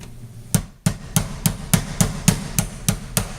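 Schnitzel meat pounded flat with a mallet in a kitchen: about ten sharp, evenly spaced thuds, close and loud, with a light ring after each blow.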